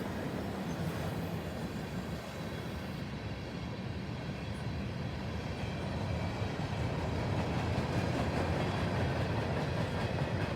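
Freight train M442 rolls past hauling rare cars, including an odd-shaped boxcar, a Conrail autorack and old gondolas, giving a steady, loud rumble with faint clickety-clack that grows slightly heavier toward the end.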